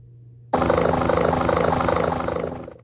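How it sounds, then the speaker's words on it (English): Helicopter from the video game GTA Chinatown Wars, a loud, steady rotor drone with rhythmic blade chop that starts abruptly, holds for about two seconds, then fades slightly at the end. "That is unobtainable helicopter."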